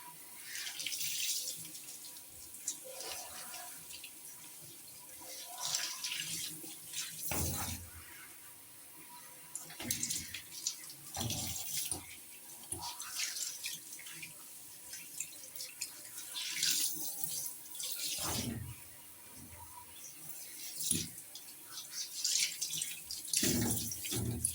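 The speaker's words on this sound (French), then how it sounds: "Là, on va les rincer." Water running from a tap while shampoo and conditioner are rinsed out, a soft close splashing hiss that rises and falls with irregular louder gushes throughout.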